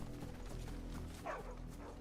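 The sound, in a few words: dog barking in the video game Final Fantasy XVI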